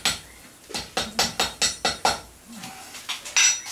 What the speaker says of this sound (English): So the taps are just light, just until I feel it on the hammer actually.